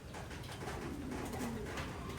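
Racing pigeons coo softly and faintly at their loft, with a low murmuring call under steady background noise.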